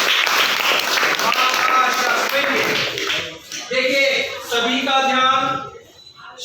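A ninth-grade class claps steadily for a few seconds, then the applause gives way to several voices talking and calling out together.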